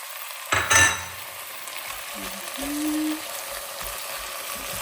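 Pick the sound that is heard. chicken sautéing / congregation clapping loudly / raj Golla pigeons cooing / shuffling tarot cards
chicken sautéing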